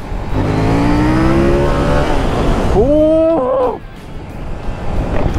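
KTM 890 Duke or Adventure motorcycle engine revving hard under acceleration, a loud close roar climbing steadily in pitch, then a sharp second surge before dropping back near the end.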